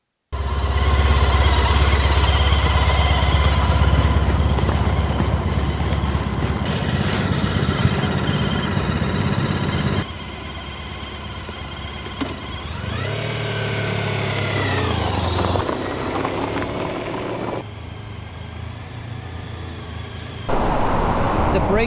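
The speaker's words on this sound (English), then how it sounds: "This bike is so easy to speed. It's 55 miles an hour." A Honda ST1300 motorcycle with a 1300cc engine and shaft drive cruising at about 55 mph, its engine hum steady and loud under heavy wind rush, with a shift in tone partway through.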